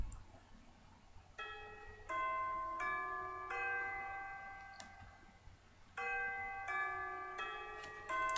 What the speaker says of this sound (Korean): 학교 종소리만 들리면 점심시간이 된 것만 같아.